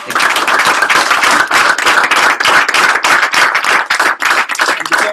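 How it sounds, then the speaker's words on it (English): A small audience claps loudly and close by in a brisk round of applause, individual hand claps standing out in a quick, uneven rhythm with no talking over it. "can we give a round of applause?"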